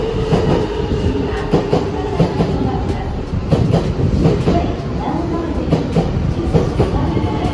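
Older Kintetsu local train running on rails, a loud close rumble with rhythmic clickety-clack beats from the wheels over rail joints, steady throughout with no clear talking.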